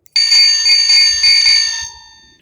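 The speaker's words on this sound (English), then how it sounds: "I'll give you the bell." Electronic bell chime played through a powerful speaker mounted on a Trek Dual Sport+ e-bike with a Shimano Steps system, a loud sustained ringing tone lasting about two seconds and fading at the end.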